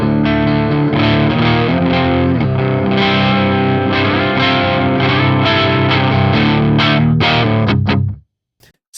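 Saturated, compressed electric guitar from an LTD EC-201FT fitted with a Seymour Duncan Slug pickup set lower, played as dense distorted riffs loud and up close for about eight seconds before cutting off abruptly.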